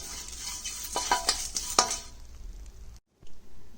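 Curry leaves fry in a pan while sambar powder is made, a short burst of crisp crackling and scraping stirs near the start, then fading to a quieter hiss before a brief cutoff and a last soft scrape.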